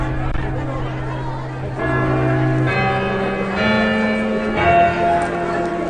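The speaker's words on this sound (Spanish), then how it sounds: "Quieto, acaban las campanadas, Lorena." Church bells ring out the New Year's Eve midnight chimes, a sustained series of resonant tolls with lingering overtones, heard against a murmuring crowd and background chatter.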